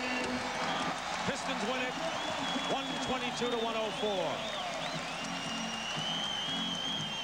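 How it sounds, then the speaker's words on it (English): Crowd noise fills a basketball arena as the Detroit Pistons beat the Boston Celtics in 1987 playoff Game 3, a steady roar running under an excited announcer calling the final score. "You'll hear the crowd."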